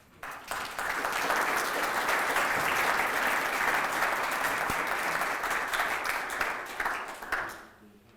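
Sustained audience applause follows a lecture on Harold Washington, a dense, steady wash of clapping that swells quickly, holds for about seven seconds, then fades out at the end.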